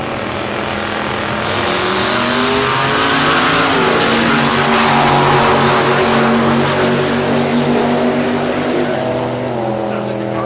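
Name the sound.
drag racing car making a run at Texas Motorplex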